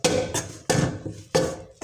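A spoon strikes and scrapes inside a metal pot of thin wheat-flour batter, in three distinct clattering bursts spaced evenly apart, each loud and close with a ringing metallic edge, and no voices.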